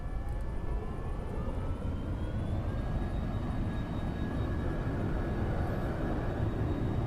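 An F-22 Raptor jet in the X-Plane 11 simulator accelerates with a dense, steady engine roar and rising whine tones, loud and continuous throughout.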